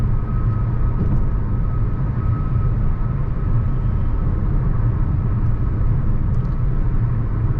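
Hyundai Alcazar 1.5 turbo petrol with DCT cruising on the highway at about 100 km/h and 1800 RPM, giving a steady, loud low drone of engine and road rumble that holds evenly throughout with no talk.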